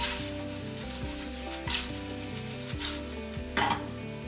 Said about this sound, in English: So it kind of looks like I'm pan frying nachos